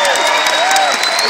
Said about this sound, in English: how about a big round of applause to Jimmy and for Davis